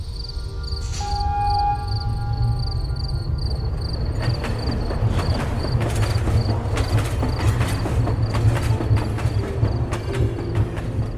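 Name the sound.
steam train departing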